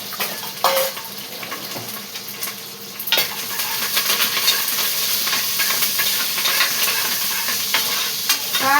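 Spices tempering in hot oil in a pan, sizzling steadily while a spoon stirs them, with scraping clicks against the pan and a continuous frying hiss throughout.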